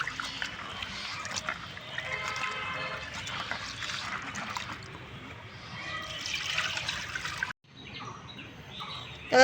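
Mud-covered crabs being washed by hand in water, with steady splashing and trickling close by for most of the stretch, a brief break near the end, then more sloshing.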